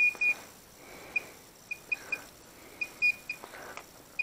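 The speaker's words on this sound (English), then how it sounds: "Sorry for the friggin' thing beeping this non-stop there." An electronic beeper attached to a drill in a mine chirps in short, repeated high-pitched bleeps at irregular intervals, faint over a quiet hiss.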